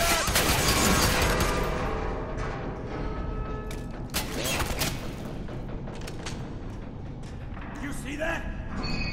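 Gunfire in the video game F.E.A.R. 3 crackles through a busy firefight, scattered shots and bursts over mechanical clatter while voices speak over it.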